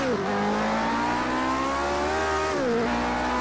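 A Lotus 49 with a Cosworth engine in a racing video game around classic Spa, the engine droning steadily, then dipping and climbing in pitch as it downshifts and brakes, loud and continuous.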